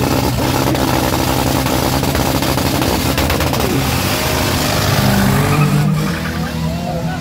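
Loud, dense engine roar from cars drag racing side by side, including a Golf GT, with a continuous full-throttle howl that eases slightly near the end.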